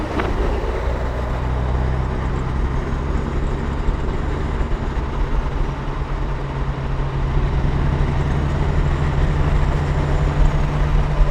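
A heavy truck's engine brake rumbles in a loud, steady, low droning roar with a humming tone, running continuously and close by with no talking.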